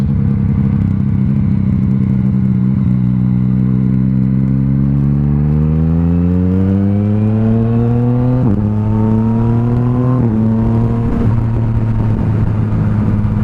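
A Yamaha MT-09 motorcycle under way, its engine note climbing steadily through the revs with a couple of sharp gear-change breaks and light crackle, loud and close throughout.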